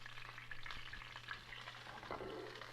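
Oil sizzling in a pan makes a faint, continuous crackling hiss with small irregular pops, heard alone at low volume with a low steady hum underneath.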